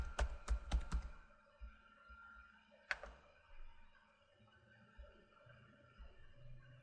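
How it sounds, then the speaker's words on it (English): A computer keyboard is typed on in a quiet room, with a short burst of clicking keystrokes, a pause, then a single keypress and a few faint taps. "click inside our console and type our top secret password"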